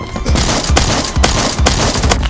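Rapid automatic gunfire from the Phantom Forces shooter game rings out loud and close in dense bursts, with a few sharper individual shots punching through the continuous fire.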